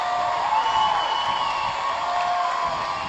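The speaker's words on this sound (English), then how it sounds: "Crowd making some noise." Steady crowd noise with cheering and whoops from a high school football game between North Mason and Shelton, a continuous broad roar filling the stands without distinct peaks.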